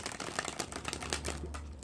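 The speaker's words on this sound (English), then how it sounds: "you can dribble just cards almost one by one" Playing cards dribbled from the hand one by one, a quick run of light, dense papery flicks and snaps over about two seconds, close and fairly loud with no talking.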